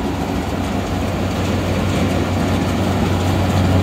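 A rebuilt Clipper Super 68D seed cleaner runs steadily, a continuous low mechanical hum and rumble with a broadband whir, even and close with no irregular knocks or pauses.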